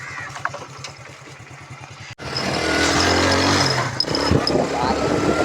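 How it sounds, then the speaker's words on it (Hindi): A motorcycle engine ticks over at idle, then surges into a louder, rougher roar as the bike is ridden out. Speech runs over the sound. "गाइस मेरा भाई बाइक निकाल रहा है, देखना"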